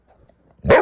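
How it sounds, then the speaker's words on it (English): A smart speaker plays a single recorded dog bark, short and sharp, after a near-silent pause. "what does a dog sound like?"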